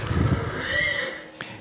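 A horse, a four-year-old unbroken one, lets out a short nicker or whinny, close and moderately loud, with a faint knock right at the end.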